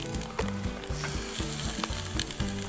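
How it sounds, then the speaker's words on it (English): Steady, close sizzling and crackling of sausages frying on a hot grill, with a rhythmic low throb underneath and no voices. "I don't know if you can hear it, but I heard a sizzle."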